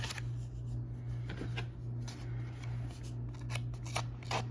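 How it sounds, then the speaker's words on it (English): Scissors scraping and distressing the edges of cardstock for a handmade card, a quiet series of quick rasping strokes repeated in an irregular rhythm over a low steady hum. "I'm going back and forth between scissors and distressing tool just to show you that it doesn't require a distressing tool if you don't have one"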